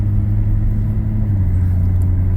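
A 1990 BMW 525i with freshly serviced rear brakes cruises along, its engine a steady, close, low rumble from inside the cabin with no voices.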